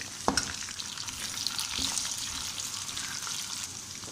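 Okra frying in oil in a pan gives a continuous close sizzle with light stirring scrapes and a couple of sharp clicks near the start.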